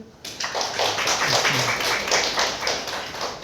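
University lecture audience gives a round of applause in an entrepreneurship and management class, steady clapping from many hands close by for a few seconds, with a brief voice mixed in.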